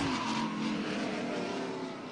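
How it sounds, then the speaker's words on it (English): Formula Drift competition car spinning out during a tandem battle at Wall, New Jersey, a loud continuous engine roar with tire squeal, steady and close for about two seconds. "And Jim Guthrie spins out"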